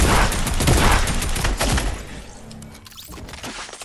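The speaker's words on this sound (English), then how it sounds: "Was he shooting me?" Rapid bursts of gunfire from the video game Fortnite rattle loudly and densely through the first two seconds, then thin out to scattered, quieter shots and game effects.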